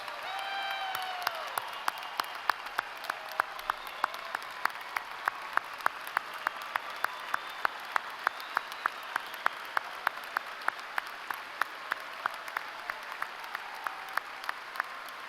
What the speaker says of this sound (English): please join me one last time for a round of applause for our military's newest officers